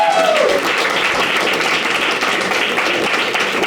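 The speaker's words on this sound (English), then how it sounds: "Huge round of applause for us." A stand-up comedy audience gives a steady round of applause that holds at an even level throughout. A brief voice sounds at the very start.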